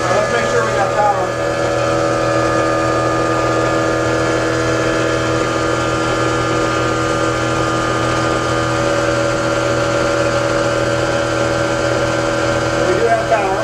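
A 2000 watt self-running generator drones steadily and loudly nearby, a constant mechanical hum with a low engine-like throb throughout.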